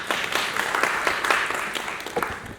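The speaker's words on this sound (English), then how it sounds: "Can we clap for ourselves?" Audience applause at a child protection workshop, with a steady wash of many hands clapping together, fairly loud and close, lasting the full moment with no speech over it.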